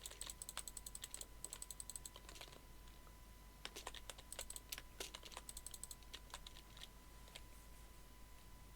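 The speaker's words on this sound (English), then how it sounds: "I feel like I'm clicking really loudly" Quiet, steady clicking of a computer keyboard and mouse, irregular bursts of keystrokes with brief gaps, close-miked over a faint steady hum.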